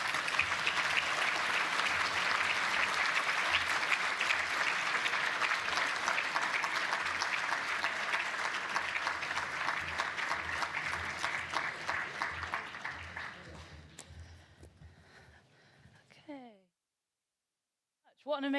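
Sustained applause from a conference audience after the morning's keynote speeches at a Co-operative Party annual gathering, steady broadband clapping that slowly thins and fades out near the end, leaving a brief silence.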